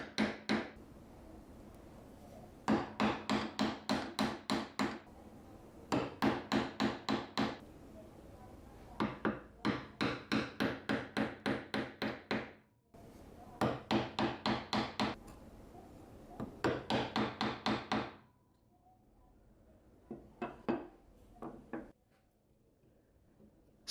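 A hammer strikes a Japanese chisel into wood in rapid groups of light, sharp taps, several clusters in a row, then a few softer, scattered knocks at the end.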